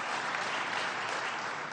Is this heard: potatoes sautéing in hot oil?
no